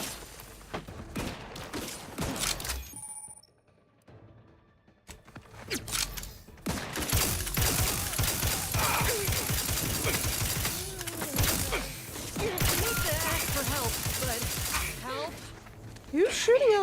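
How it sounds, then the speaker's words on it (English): Gunfire in The Outer Worlds 2, bursts of rapid shots and clattering impacts mixed with game effects and music, loud and busy, with a short lull early on. "Who's shooting at us from back here, though?"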